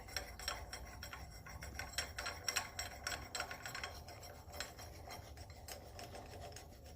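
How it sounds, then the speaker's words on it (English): Bolt being screwed into a puller to draw the harmonic balancer off a 350 small-block engine during teardown, heard as faint, rapid ratcheting clicks and scraping metal that thin out midway, with no talking. "as you screw on this, you screw this in here, the harmonic balancer actually pulls off."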